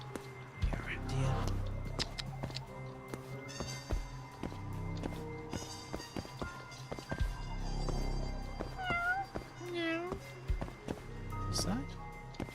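In the video game Judgment, a cat gives several short meows spread across the stretch amid footsteps, taps and game ambience, with someone talking over parts of it.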